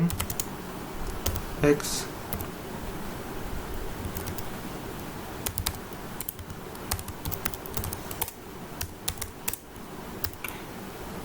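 Rapid, irregular clicking of a computer keyboard as code is typed, steady close taps with short pauses and a soft room hiss underneath, while someone talks.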